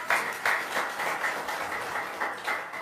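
Audience applause at a talk, a modest crowd clapping in loose rhythmic waves at moderate distance, fairly soft and continuous for a few seconds.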